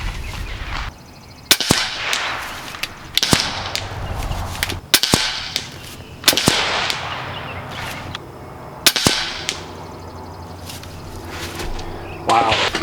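Nova Liberty air rifle shooting 26-grain AVS slugs on a 3,700 PSI fill, a series of sharp, loud cracks spaced a second or two apart, each followed by brief ringing, with faint talk in between.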